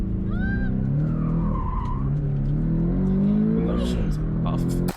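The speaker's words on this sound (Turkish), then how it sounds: "Araba kaydı abi. Tekerler kaydı" A car skids with its tires sliding, giving a loud, sustained squeal with a gliding engine tone. Voices talk over the sound for the whole stretch.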